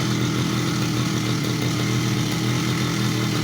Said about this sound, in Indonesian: Baik, kita hidupkan mesin.